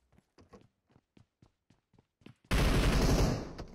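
Sudden loud burst of gunfire in PUBG Mobile, a sustained volley that follows a stretch of quiet, sparse taps and footstep-like clicks, then slowly tails off.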